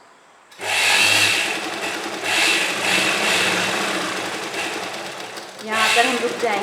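A sewing machine running in steady bursts, stitching a strip of leftover fabric for a child's kurta pyjama set; close, loud mechanical whirring that pauses briefly and resumes, with no talk over it.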